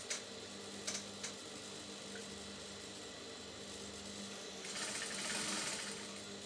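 A sewing machine hems the curved, circular edge of a kaftan maxi dress, running as a steady close whir with a few light clicks at the start and a louder, busier stretch near the end.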